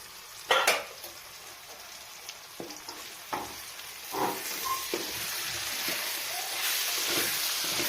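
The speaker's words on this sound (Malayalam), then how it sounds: "അതിലേക്ക് കഷ്ണമാക്കി വെച്ച വഴുതനങ്ങയും കൂടി ഇടുക." Potato and brinjal pieces cook in a pan with a steady sizzle, opened by a loud clatter and followed by scattered knocks and scraping stir sounds as the frying builds.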